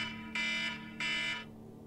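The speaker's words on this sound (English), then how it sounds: "Alarm going off." An electronic alarm goes off with two loud, sustained shrill beeps, each about a third of a second long, over a faint steady background hum.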